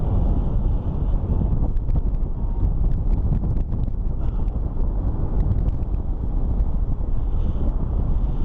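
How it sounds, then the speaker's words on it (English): Wind gusts buffet the microphone in a continuous, heavy roar that swells and eases throughout, while paragliding along a ridge at Torrey Pines. "So I am feeling some periodic gusts come through."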